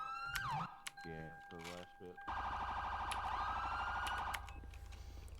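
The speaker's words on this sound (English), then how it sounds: "Alright, the sirens are working." Emergency vehicle sirens in a video game wail and warble over a low engine hum, loud and close, with someone talking briefly at the start.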